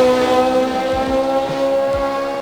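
Lamborghini Temerario engine in an Assetto Corsa game mod, a loud sustained high-pitched exhaust note held steady near the top of the rev range with a few brief gear-shift dips, close and dominant throughout.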